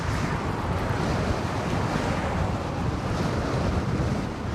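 Strong wind at Fort Myers Beach roars and buffets the microphone in a loud, constant rush, with no talk.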